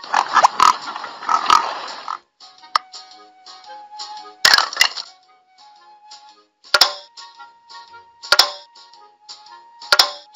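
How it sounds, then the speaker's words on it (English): A cartoonish pig oinks in short grunting bursts in a children's animal-sounds puzzle game, punctuated by sharp clicking snaps and a soft sustained tone between calls. "Pig."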